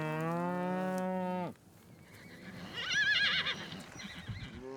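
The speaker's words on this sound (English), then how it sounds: "horses on a neighboring place gallop up to see what's happening" A long loud moo opens, then after a pause horses gallop up and whinny, high quavering neighs nearby over faint rustling and hoof noise.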